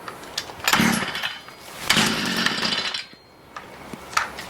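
A Stihl weed eater's small two-stroke engine running badly without choke, loud and close, surging in rough bursts that rise and sag, nearly dying out before picking up again.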